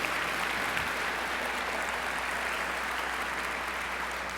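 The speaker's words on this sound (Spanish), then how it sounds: "dale un aplauso a nuestro Señor" Church congregation applauding during a worship service, a steady wash of clapping at moderate volume that holds evenly for several seconds with no voices over it.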